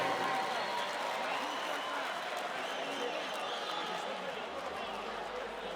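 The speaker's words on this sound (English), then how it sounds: "Put your hands together for these fighters, ladies and gentlemen." A crowd at a charity boxing event applauds and cheers steadily throughout, a dense wash of clapping with voices mixed in.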